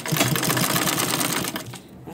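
A sewing machine runs in a fast, rhythmic burst while stitching a zippered carry bag, loud and close, then stops briefly as a voice speaks.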